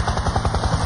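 A helicopter's rotor thumps in a steady, fast, rhythmic beat over a broad engine roar, loud and close for under a second, with no voices.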